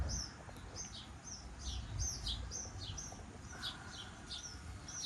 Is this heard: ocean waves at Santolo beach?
no